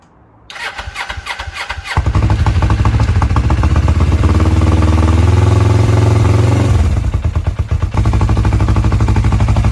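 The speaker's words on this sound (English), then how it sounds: "I'll start the bike up and you can see for yourselves where it's at now." A Suzuki GS500 cafe racer motorcycle cranks briefly, fires up and settles into a loud, close, steady rumbling run with a slight lumpy beat, dipping a little toward the end.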